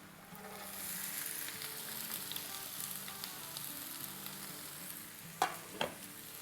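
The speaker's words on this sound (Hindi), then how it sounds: "देखिए हमारा ऑयल जो है वो गर्म हो गया है। अब ये सारी वेजिटेबल्स हम इसमें डाल देते हैं।" Vegetables including bell peppers hit hot oil in a preheated pan over high flame for a macaroni pasta platter, giving a steady close sizzle and frying hiss with a couple of sharp stirring knocks near the end.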